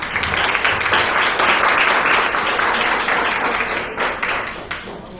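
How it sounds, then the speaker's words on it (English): Audience applause at a school board candidates forum, a dense, steady wash of many hands clapping loudly throughout and tapering slightly toward the end. "Round of applause."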